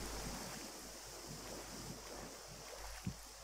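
Steady, soft rushing of a waterfall in the video game Gothic 1, a faint continuous wash of water heard alone.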